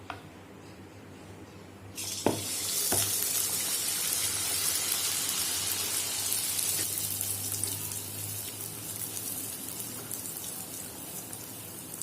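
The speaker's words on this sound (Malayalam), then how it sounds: "ഇനി ഇതിലേക്ക് മാവ് കോരി ഒഴിക്കാം." Paniyaram batter ladled into hot oil for Chettinad vellai paniyaram hits with a sudden loud hiss after a quiet start, then settles into a steady, dense crackling fry that continues close by.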